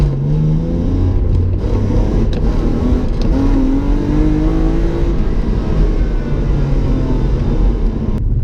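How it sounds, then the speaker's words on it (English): A BMW E36 car driving while running rough, its engine a loud continuous drone from inside the cabin, with the pitch rising and falling gently as it accelerates, no voices over it. "I don't like how this car is driving."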